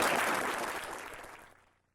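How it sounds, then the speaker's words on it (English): Applause from a karate seminar group for a volunteer after a knockout demonstration, a dense burst of clapping that starts loud and quickly fades out over about two seconds. "Give Dave a round of applause."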